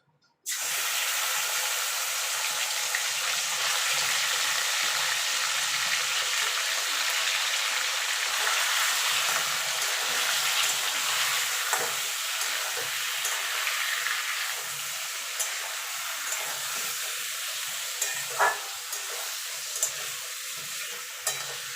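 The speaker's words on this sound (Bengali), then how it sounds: "এই তেলে মাংসগুলো আমি একটু ভেজে নেব।" Chicken pieces sizzle in hot oil left over from frying potatoes, a loud steady crackle that starts abruptly and continues, with occasional stirring clinks and sputters.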